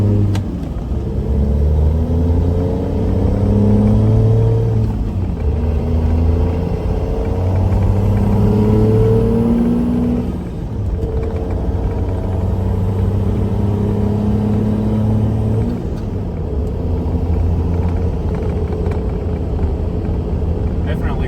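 Steady low engine drone of a 6.7 Cummins diesel truck with a new aftermarket muffler driving, heard from inside the cab with windows up, with people talking over it throughout.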